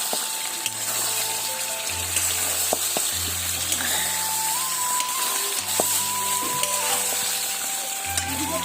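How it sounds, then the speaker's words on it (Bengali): Water poured into a pot of browned meat for biriyani, heard as a loud, steady sizzle and rushing hiss with a low hum underneath, continuous and close throughout. "এবার জল দিয়ে দেবো"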